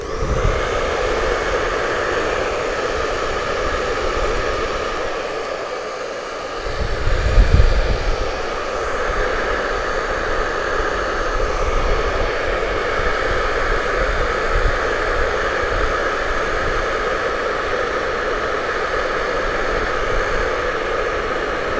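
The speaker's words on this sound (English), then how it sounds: "let me shoot the hair dryer on it real quick" A hair dryer blows continuously at close range, drying painted lettering on a jar: a loud, steady whooshing roar with a brief shift in airflow partway through.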